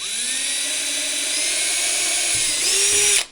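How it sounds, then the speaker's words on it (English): A power drill fitted with a 1/4 inch bit bores through a plastic cutting board being made into a skid plate for a Kove 450 Rally motorcycle, whining steadily and loudly for about three seconds before spinning down and cutting off. "I'm just gonna drill this, it's not that exciting."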